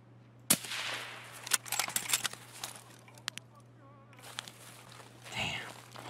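Gunfire in Escape from Tarkov: a few sharp, fairly quiet shots spaced apart, with scuffing footsteps and movement noise between them, all at low level.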